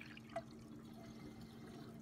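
A round Gerber front-flushing Aquasaver toilet tank refilling, a faint, steady trickle and hiss of running water with a single soft drip near the start.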